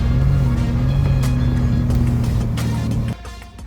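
Truck engine idling and revving steadily up close while pulling SEC electrical wire through conduit, a loud droning hum that cuts off abruptly near the end, leaving quieter background.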